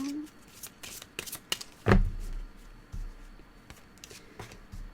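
Tarot cards being shuffled by hand, a few quick riffling bursts and papery slides up close and fairly quiet, with a soft thump partway through and someone speaking French around them.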